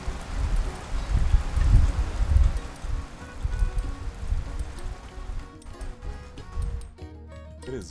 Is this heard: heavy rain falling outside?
yes